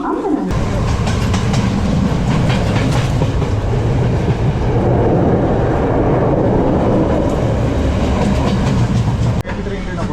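A train rumbles and rattles steadily at close range at Mount Lavinia station, Sri Lanka, wheels clattering over the tracks, with a muffled voice under the noise before an abrupt drop near the end.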